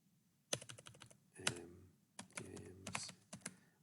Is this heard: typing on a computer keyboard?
yes